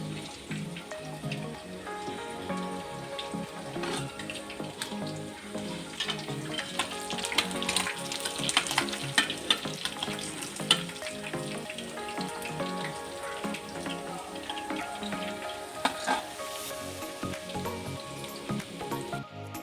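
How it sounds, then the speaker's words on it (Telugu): Small fish fry in oil in a pan, a steady crackling sizzle with scattered pops and spits, close and continuous for the whole stretch with no talking. "చూడండి, టర్న్ చేసుకొని ఈ విధంగా కాల్చుకోండి."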